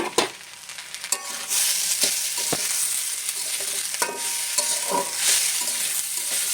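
Sabudana pulao of soaked tapioca pearls frying over a slow, medium-low flame in a pan, giving a continuous soft sizzle broken by sharp scraping stirs and clinks of a spoon, with no talk.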